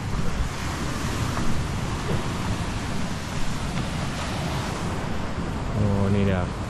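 Surf rolls steadily onto Kaul Igan beach at Mukah, Sarawak, a continuous broad wash of waves mixed with wind buffeting the microphone, with a brief faint voice near the end.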